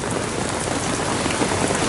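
Steady rain pours down without pause, a dense, even hiss of drops hitting surfaces close by, with no voices over it.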